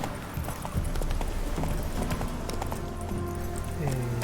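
Roach, a horse in The Witcher 3, gallops with steady, dense hoofbeats under a busy game soundtrack and ambient noise, close and continuous.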